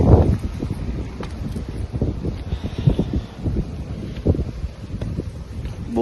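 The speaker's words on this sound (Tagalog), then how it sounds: "Sarap ng hangin." Gusty outdoor wind at the Leyte Landing site in Leyte, Philippines, buffets the microphone with a steady low rumble that swells and eases throughout, with no other clear sounds.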